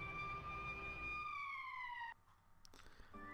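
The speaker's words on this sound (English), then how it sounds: "Oh, sirens and alarms going off." A wailing emergency siren from the video game Valkyria Chronicles, a clear rising-and-falling electronic tone that cuts off abruptly after about two seconds, followed by quieter clicks and a brief buzz.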